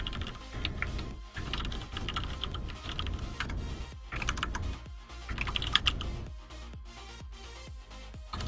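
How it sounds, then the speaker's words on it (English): Fingers type on a computer keyboard in a steady, rapid clatter of close keystrokes with short pauses between bursts, and no speech is heard. "And am I typing?"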